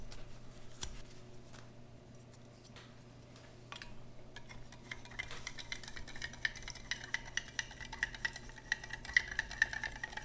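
Spoon stirring a drink with a heavy load of undissolved sugar at the bottom, part of a Russian IRP ration: faint, irregular clinks and scraping taps that grow busier and denser toward the end.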